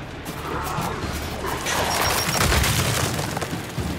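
A frag grenade explodes in the Gears 5 video game with a heavy, booming crash that swells around the middle. It comes over dense, continuous battle noise and rumble, without any clear speech.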